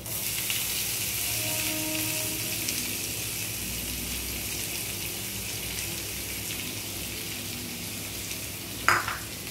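Onions and asafoetida go into hot oil with cumin over a low flame, giving a steady, even sizzle throughout, with a brief clatter near the end and no talking.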